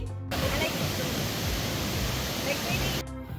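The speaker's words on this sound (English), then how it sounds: "I finally get my waterfall." A waterfall in Colombia gives a dense, steady roar of rushing water, loud and close, lasting about three seconds with no break in the wash of sound.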